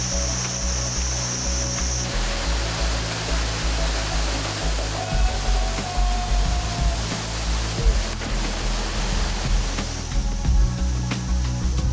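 Waterfalls near Luang Prabang, Laos, give a steady, full roar of rushing water that holds constant throughout, with a faint tonal hum underneath and no voices.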